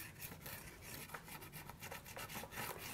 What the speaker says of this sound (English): Using pastels, we're going to color the surface of the panel. So I'm just going to rub this on